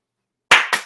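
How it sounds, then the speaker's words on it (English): Hands clap a few times, close and crisp, the sharp bursts following one another quickly with no talk between them. "Give him some claps."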